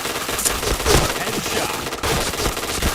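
Video game gunfire crackles in rapid bursts of shots, loud and dense over a busy mix of game effects, without speech.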